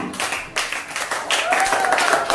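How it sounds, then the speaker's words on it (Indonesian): A group claps and applauds for a couple of seconds, fairly close, with an uneven, lively rhythm. "Berikan tepuk tangan yang meriah. Tepuk tangan sekali lagi yang meriah."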